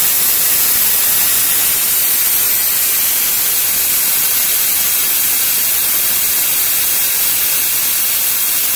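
Compressed air hisses steadily and loudly through the brake master cylinder of a 2018 BMW S1000RR, blowing out the fluid in a continuous broadband rush with no pauses and no talk.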